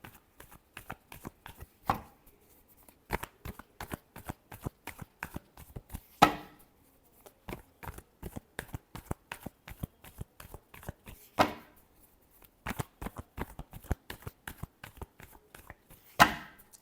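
Tarot cards are shuffled by hand in a quiet room, with a long series of quick crisp riffling clicks broken by a few louder slaps and short pauses, close and fairly faint.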